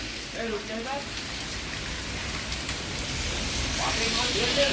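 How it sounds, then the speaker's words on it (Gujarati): Outdoor rain in a village falls as a constant hiss while people talk nearby at the start and again toward the end. "તો વરસાદ પડે હજી"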